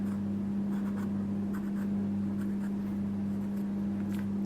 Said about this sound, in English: just holding this in place and drawing my lines